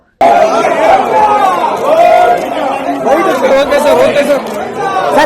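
Fans at a temple shouting for Rajinikanth: a dense, loud crowd of overlapping cries and chatter, with voices rising and calling out continuously throughout.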